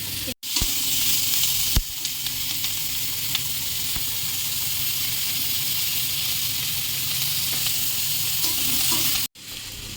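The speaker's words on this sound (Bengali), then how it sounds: "চিলি চিকেনের পেঁয়াজ আর ক্যাপসিকাম ফ্রাই হয়ে গেছে" Onion and capsicum frying in a pan for chili chicken give a steady, loud sizzle with stirring scrapes, briefly broken by two short gaps.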